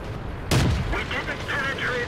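A tank cannon fires in a World War II tank battle video game, one sharp loud blast followed by a rumbling decay, and someone talks over the tail end.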